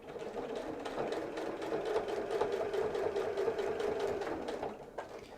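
A sewing machine runs continuously and close up as it top stitches fabric hanging storage pockets, with a rapid, even mechanical chatter that eases off near the end.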